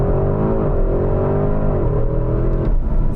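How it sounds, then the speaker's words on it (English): A Porsche Cayenne Turbo GT accelerating from 0 to 60 mph, its engine note a loud, continuous roar that rises steadily in pitch with brief dips at gear changes, heard close with no talking. "Just check out what happened when I timed the old Cayenne Turbo GT from 0 to 60 miles an hour"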